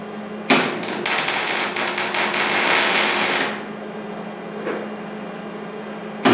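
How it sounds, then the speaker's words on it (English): Welding wrought iron lawn ornament parts in a workshop, a loud continuous crackling hiss lasting a few seconds before cutting off, followed by a quieter stretch with a faint click. "He's going to weld everything at once."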